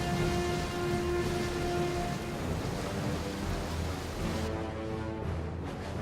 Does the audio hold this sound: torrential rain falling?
yes